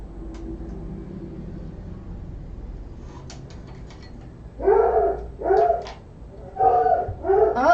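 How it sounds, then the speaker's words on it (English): Coco the dog barks in four loud, close bursts at someone arriving home, after a stretch of quiet room noise and faint background hum. "So Coco's gonna bark for a minute."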